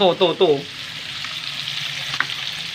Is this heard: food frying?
yes